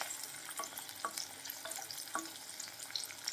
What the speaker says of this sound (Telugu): ఇలా క్యాప్సికమ్ యాడ్ చేసి ఒక 5 మినిట్స్ ఫ్రై చేసుకోవాలి